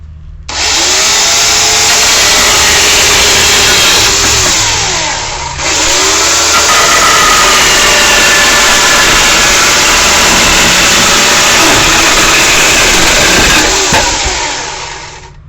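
A Greenworks chainsaw with a freshly tightened chain cuts through wood with a loud, close, continuous high-revving whine, briefly dipping once before surging on again.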